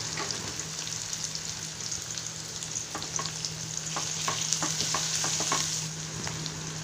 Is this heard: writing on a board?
no